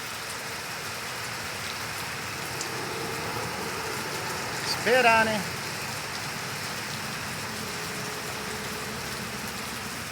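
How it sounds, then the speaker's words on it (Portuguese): Heavy rain in a city centre pours down steadily and evenly throughout, a dense hiss with a faint engine-like hum underneath, while a person speaks briefly midway. "uma chuva danada aqui no centro agora e eu tenho que esperar passar a chuva"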